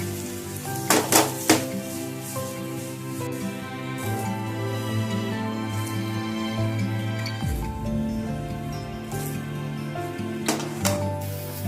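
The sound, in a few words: sautéing boiled corn and peas on a high flame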